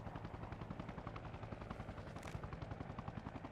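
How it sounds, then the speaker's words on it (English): In Arma Reforger, rapid, evenly spaced gunfire rattles on steadily from a hill, a dense rhythmic stream of shots mixed with a throbbing helicopter-like drone, fairly faint and without voices. "Somebody's shooting at it from up on the hill."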